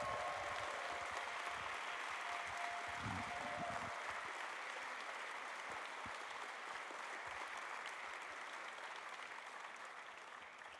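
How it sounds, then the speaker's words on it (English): A General Assembly audience in Bratislava gives the Electoral Commission and volunteers a long round of applause, a continuous dense patter of many hands that holds steady and slowly fades toward the end. "can I have a round of applause for them as well"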